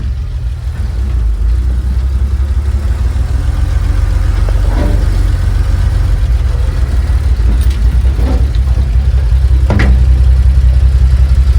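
A 1957 Chevy engine idles steadily with a deep, low rumble and even rhythm, close and continuous, with a few faint clicks over it.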